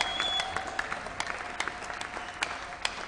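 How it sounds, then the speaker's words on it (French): A church congregation claps and cheers in praise of God at a prayer service, a steady wash of many hands with sharp individual claps standing out, moderately loud and close. "Est-ce que tu peux encore l'acclamer?"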